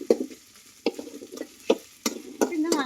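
Green chillies and spices sautéing in a pan, heard as a soft background sizzle broken by several sharp, separate stirring scrapes and clatters.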